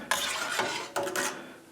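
Culture being stirred into milk for Camembert cheese, giving two close swishing strokes of stirring in a pot, with no talk.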